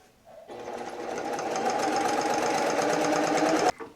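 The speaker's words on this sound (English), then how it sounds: "I'm going to lower the presser foot, back stitch, and you are going to stitch all the way around and close." Sewing machine running steadily for a few seconds as it stitches around a fabric bowl cover, a close, continuous whirring hum with rapid needle clatter and no talking.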